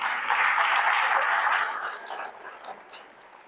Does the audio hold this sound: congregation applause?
yes